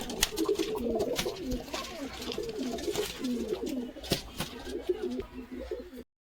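Pigeons in a loft coo continuously in soft, rolling bursts, close and layered, with scattered wing flutters and clicks and no one talking.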